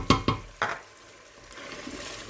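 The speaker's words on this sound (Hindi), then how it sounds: "चिकन को अच्छी तरह से हम भून लेंगे यहाँ तक कि ऑयल सारा सेपरेट हो जाए।" Chicken stir-fries in oil in a pan, with a few sharp scraping stirs up front followed by a soft, steady sizzle, close and alone without talk.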